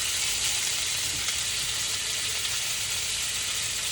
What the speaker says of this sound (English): Go ahead and put that in the pan with the bacon.